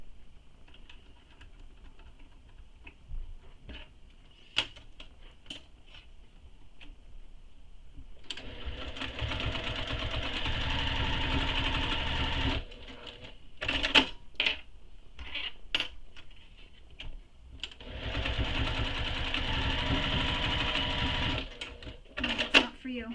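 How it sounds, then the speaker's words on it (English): A sewing machine fitted with a Teflon foot bastes the short ends of a tote bag together, running in two sustained bursts of steady whirring separated by clicks and brief handling sounds, with occasional talk nearby. "I'm going to baste these short ends together right here"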